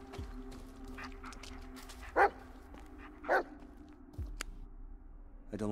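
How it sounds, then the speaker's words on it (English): A dog barks in the Blair Witch video game, two sharp single barks a second apart over a quiet hum, followed by a fainter yip. "what are you barking at?"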